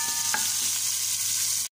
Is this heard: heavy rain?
no